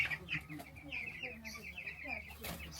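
Chickens on a small Jamaican farm clucking in short, repeated bursts, fairly close and moderately quiet, with a few sharper calls scattered through.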